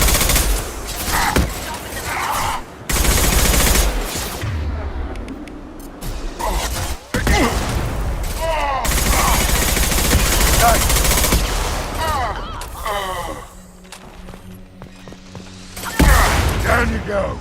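Heavy gunfire in the video game Mass Effect 2 comes in loud sustained bursts of rapid shots that keep breaking off and starting again, with occasional game voices in between.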